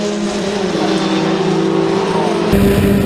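Historic Formula Ford race cars at Oulton Park pass close by in a steady, loud engine drone, a sharper rise in pitch and level near the end as another car closes in.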